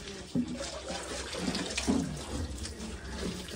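Water runs steadily from a tap, splashing and gurgling as it fills a container, with a few soft knocks.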